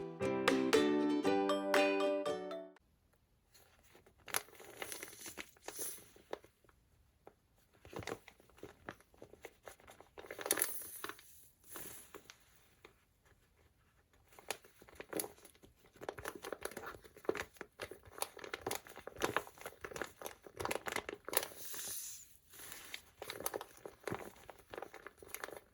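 A handmade paper squishy shaped like a heart-eyes emoji being squeezed, giving repeated crinkling, crumpling paper bursts, close and fairly quiet, after a brief snatch of music at the start.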